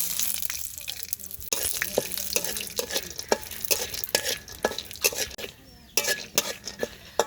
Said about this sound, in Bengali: বাদাম ভাজা হয়ে গেছে, নামিয়ে নিব।